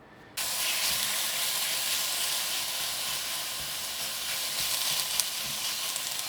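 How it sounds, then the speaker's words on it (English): Chicken, cold from the fridge, sears in a hot pan for Thai green curry, a steady loud sizzle and hiss bursting in abruptly and holding constant without speech. "We're going to sear the chicken quickly, just to bring it up to temp"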